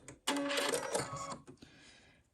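A sewing machine with an UltraTech accessory foot stitches across vinyl in a loud, steady mechanical run of about one second, then fades into a quieter whir before stopping.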